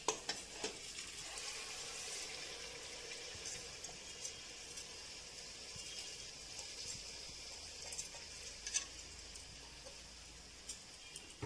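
Rice goes into a pot of frying chicken pulao with potatoes, a soft steady sizzle and light stirring scrapes running throughout, with a few small clicks and no talking.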